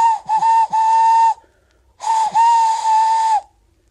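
Steam train whistle, two long steady blasts, each opening with a couple of short stuttering toots, loud and close with a short pause between the blasts.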